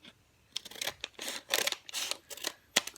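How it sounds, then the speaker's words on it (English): Scissors snip repeatedly through a food packet in a kitchen, giving a series of short crisp rustling cuts at close range with brief pauses between them. "I'm gonna use scissors just so it's easier."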